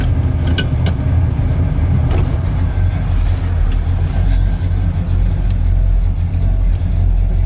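A 1967 Pontiac GTO engine with an aggressive cam idles in park around 1,000 rpm, loud and steady up close, a deep rumbling throb with a lumpy, uneven rhythm and no voices.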